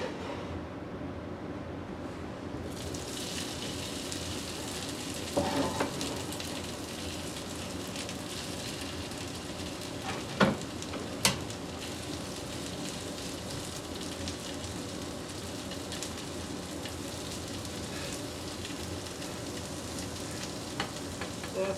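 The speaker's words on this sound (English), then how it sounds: "Time to start the hash browns. Use a little bit of extra virgin olive oil to get things started on the grill there." Hash browns sizzle in extra virgin olive oil on a griddle, a steady, dense crackling hiss that carries on throughout, with occasional sharper pops and a faint scrape or tap now and then.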